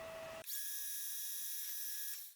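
A metal lathe makes a facing cut on a part held in the chuck: a sudden onset of a bright, steady high-pitched whine with sharp overtones, close and continuous, with no talk.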